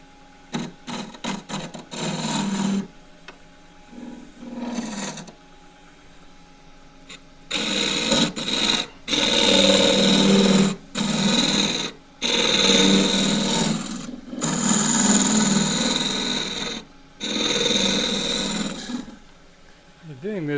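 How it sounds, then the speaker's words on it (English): A gouge cuts an ironbark pot, turned from sawmill waste, on a wood lathe. It gives loud, broadband scraping bursts that stop and restart several times across the clip, with quieter handling noise in the gaps. "all I'm trying to do is take away the ridge from the bottom of the gouge cut."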